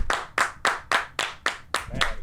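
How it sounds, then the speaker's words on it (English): A few people clap for comedian Scott Keith at a small comedy show, roughly eight distinct, evenly spaced claps, close and fairly loud, with no one speaking. "How about we give a big round of applause to Scott Keith"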